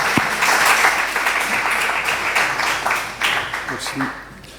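An audience at a talk on artificial intelligence applauds the speakers, a loud, full wash of clapping that slowly thins toward the end, with a few voices rising beneath it.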